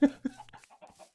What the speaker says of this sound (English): I want to fight the big chicken.